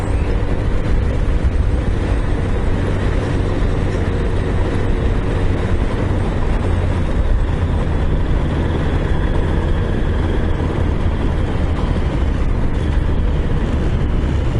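A 1988 Honda CBR1000F motorcycle on the move, rebuilt after sitting for years, gives a steady, loud engine drone with heavy wind rumble, continuous and unbroken, with no talking.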